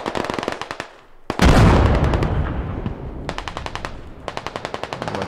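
Machine-gun bursts and a heavy explosion in the video game Squad during a 100-player battle defending a shore against a USMC amphibious assault. Rapid rhythmic shots come first, then a loud boom with a long rumbling tail, then more bursts of fire.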